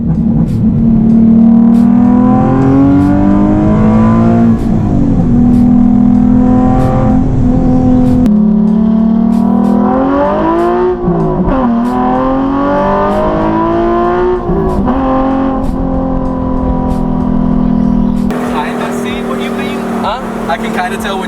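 Nissan 370Z Nismo engine droning and revving as it accelerates through the gears, a loud steady growl with rising pitch sweeps and shift breaks, with people talking over it inside the car.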